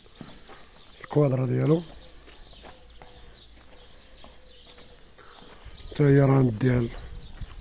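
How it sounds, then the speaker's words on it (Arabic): A horse is led on foot toward a barn patio on a farm keeping mares, its hooves clip-clopping faintly and steadily under two loud bursts of nearby talk. "صافي دابا راه دينا الحصان، نديو ندخلو"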